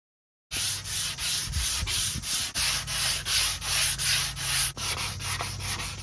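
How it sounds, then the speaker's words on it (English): Sandpaper rubs along the grain of a handmade wooden baseball bat in quick, even back-and-forth strokes, close and loud with a rhythmic scratching pulse. "sandpaper sanding against that grain"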